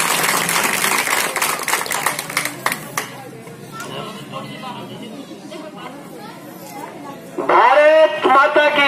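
Applause greets a speaker at a political event in Karnal, a dense patter of clapping for about three seconds that thins into crowd chatter, after which a loud amplified voice speaks near the end.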